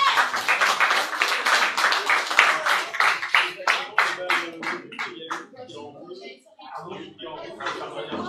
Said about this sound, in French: Ouais, je peux applaudir.